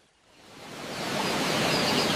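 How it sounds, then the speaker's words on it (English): A waterfall in the Amazon rainforest gives a steady, broadband rush of falling water that swells from faint to full and loud over a couple of seconds, with no other sounds. "I can hear the sound of falling water coming from behind those rocks."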